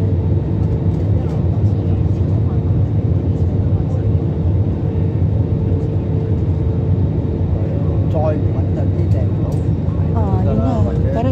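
Airplane cabin noise fills the clip during descent as a loud, steady low roar and rumble of engines and airflow. A voice talks over it near the end.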